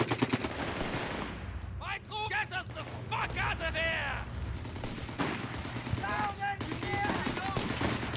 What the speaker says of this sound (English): Oh, that MG is really annoying.